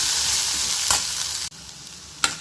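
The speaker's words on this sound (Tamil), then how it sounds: "இப்போ வெங்காயம் நல்லா வளைஞ்சிருக்கு" Onions sautéing in a pan for paneer butter masala, a steady soft sizzle with a couple of brief spatula scrapes and a sudden drop in the frying noise midway, no voices present.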